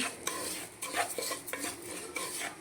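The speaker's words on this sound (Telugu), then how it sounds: "మంచిగా వేగాలండి నెయ్యిలో ఈ గోధుమ రవ్వ అనేది." Wheat semolina is stirred and fried in ghee, with a utensil scraping and clinking against the pan in short, uneven strokes over a soft, faint background.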